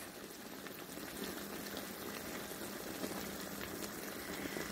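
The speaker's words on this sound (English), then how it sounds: "Put some pork chops in the beef tallow with some seasoning salt that I made up, with some local sliced onion." Pork chops and sliced local onions with seasoning salt frying in beef tallow, a steady, even crackle and hiss of fat holding at a constant level throughout with no voices.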